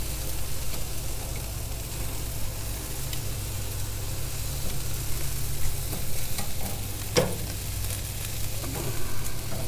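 Meat sizzling on a grill at a Father's Day smoke as the pieces are flipped, a steady close hiss with a low hum underneath and a sharp clank from a utensil partway through.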